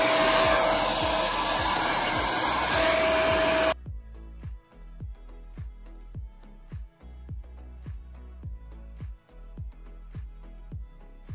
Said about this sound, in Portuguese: bora lá secar esse cabelo